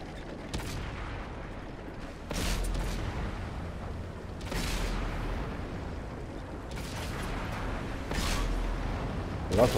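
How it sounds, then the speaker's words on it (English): Gunfire in a competitive CPL Open Season 4 multiplayer shooter match: scattered, muffled shots and short bursts at moderate distance, fairly faint over a steady low background. "Lots of shots here"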